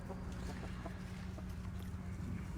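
Chickens cluck softly while corgi puppies herd them outdoors, a steady low farmyard murmur with scattered faint bird calls, no speech.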